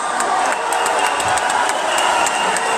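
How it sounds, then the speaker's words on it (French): Crowd applause fills the hall for Félix Tshisekedi and first lady Denise Nyakeru Tshisekedi at a speech event in Paris, a dense, steady wash of clapping with scattered cheers throughout. "sous vos applaudissements"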